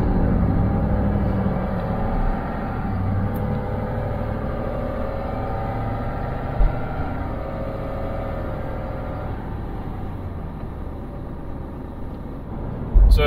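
Ford F-350 Super Duty pickup cruising steadily at 60 mph around 1400 RPM, a constant low engine and road rumble filling the cabin with no talk over it, plus a brief knock midway and another at the end.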